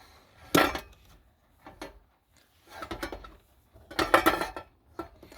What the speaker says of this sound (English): This is my new pop-up kettle.